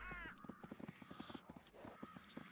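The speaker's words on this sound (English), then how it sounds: "Check me out, I'm on a horse." Horse hooves clip-clop in a steady trotting rhythm in the video game Disciples: Liberation, with a creaky mechanical texture and a brief whinny-like tone at the start.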